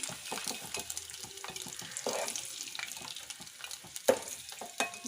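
Green chillies and onions dropped into a pan where eggs were fried, with soft sizzling, stirring scrapes and clattering utensil knocks, fairly quiet and close.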